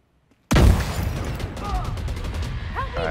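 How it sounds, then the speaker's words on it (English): A grenade detonates in a Division 2 co-op firefight on Roosevelt Island: a sudden loud blast, then sustained gunfire and clattering combat noise that continues to the end. "Right, grenade out."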